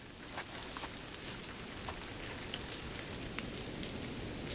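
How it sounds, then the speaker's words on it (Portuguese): Steady rain falls continuously across a wide area, a dense even hiss with scattered brighter drop impacts throughout, moderately loud and with no voices. "Uma chuva inesperada destruiu o plano de busca."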